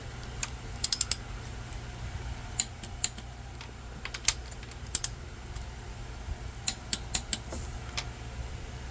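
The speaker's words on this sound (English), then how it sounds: "I'll torque this to 45 foot-pounds." A torque wrench tightens an engine mount bolt to 45 foot-pounds on a 2014-2017 Mazda 6 with a 2.5L engine. Sharp, light clicks come in scattered bursts over a low steady hum, close by and with no talk.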